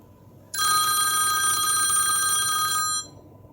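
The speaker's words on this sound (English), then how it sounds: "Then tap the old phone to play a loud sample." An iPhone plays its Old Phone ringtone, a loud, bright mechanical bell trilling steadily for about two and a half seconds before stopping abruptly, with nothing else heard.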